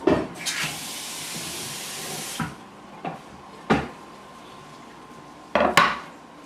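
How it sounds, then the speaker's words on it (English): A cooking pot being washed at a kitchen sink, with a long stretch of running water at the start, then several sharp metallic clanks and knocks of the pot against the sink, fairly close. "Now I'll just wash my pot."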